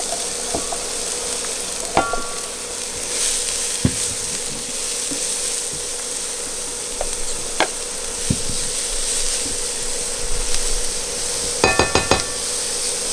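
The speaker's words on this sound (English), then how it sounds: "Then we're gonna add our garlic, onion, and green onions." Garlic, onion and green onions sautéing in a pan, a moderate sizzle under scattered clinks and knocks of a utensil against cookware, with a quick flurry of metallic taps near the end.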